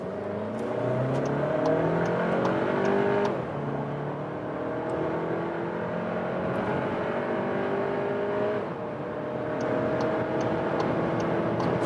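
A 190 hp all-wheel-drive VW SUV pulls hard from low speed, its engine note climbing steadily through the gears with brief dips at each shift, heard from inside the cabin with a constant whir.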